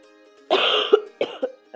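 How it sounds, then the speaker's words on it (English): A person coughs in a harsh burst, followed by a few shorter coughs and throat-clearing sounds, close and fairly loud with no talking. "I have a cold, so I'm coughing"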